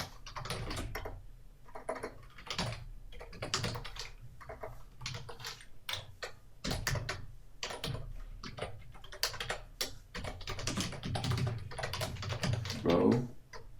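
Computer keyboard keys clatter in quick irregular bursts as code is typed, close and fairly clear, with short pauses between runs and a voice speaking intermittently underneath.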